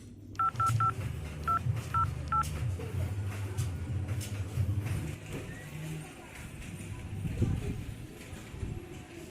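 A phone is dialed in a burst of quick keypad tones, then three more spaced tones, over low rumbling room and traffic noise with murmuring voices nearby.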